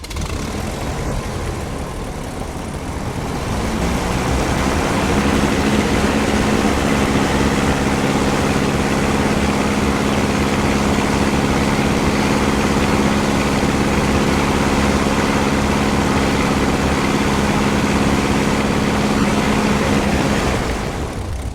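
An RV-9A aircraft engine and propeller run up for prop balancing, starting quieter, then settling into a loud, steady drone with a strong low hum that holds evenly for about twenty seconds before easing off at the end.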